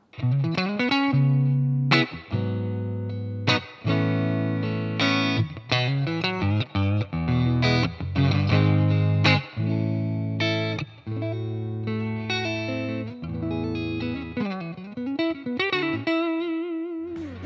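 Electric guitar played through a Mooer GE150 Pro multi-effect unit with a distorted, chorus-tinged tone and reverb, a continuous run of sustained notes and chords lasting the whole stretch, loud and close with no talking.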